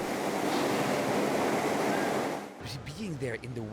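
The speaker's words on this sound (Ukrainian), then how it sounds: "Він може здійняти шторми з метровими хвилями і проливним дощем." Storm waves churn in an indoor stunt wave pool able to raise metre-high waves, a dense close rush of water for about two and a half seconds, then someone talks over quieter water.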